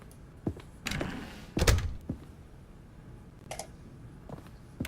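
A door opening in The Stanley Parable, heard as a few scattered mechanical thunks and clicks, one heavier clunk in the middle, fairly quiet against a faint room background.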